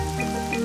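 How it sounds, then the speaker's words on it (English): Rain patters and drips steadily through a leaking school roof in a children's cartoon, a brief, fairly loud wash of droplets over a faint musical hum, with no voices. "It is raining and the school roof is leaking again."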